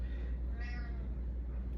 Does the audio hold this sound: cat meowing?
yes